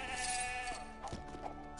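Goat bleating in a LEGO video game, a few short wavering bleats over constant game background music, fairly close and clear.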